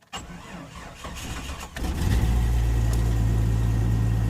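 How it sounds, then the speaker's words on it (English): A 1996 Jeep Cherokee Country XJ cold-starts after sitting about two weeks: a short cranking whir, then the engine catches and settles into a loud, steady idle. "then I'll start the Jeep up. But here, turn off the heat. This is a cold start."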